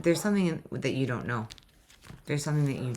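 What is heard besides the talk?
No everyday noise stands out behind the speech.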